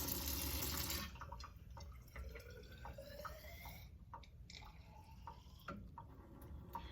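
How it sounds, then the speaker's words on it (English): Tap water from a forceful lab sink runs into a graduated cylinder, a faint rush that gives way to soft, scattered drips. "the water comes out very forcefully from these sinks"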